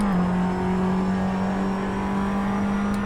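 A GT4 race car in the Assetto Corsa racing game drives at steady high revs, a loud, sustained engine drone with a constant pitch; no talking.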